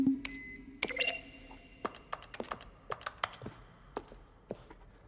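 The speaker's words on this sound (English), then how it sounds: "Each sound is a mix of keyboard stroke with a synthesized tone" Button presses in The Stanley Parable, each a keyboard stroke blended with a synthesized tone, come as a string of short clicks and beeps, several tonal at first and then sparse taps in uneven rhythm.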